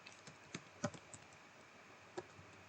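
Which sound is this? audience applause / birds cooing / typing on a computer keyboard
typing on a computer keyboard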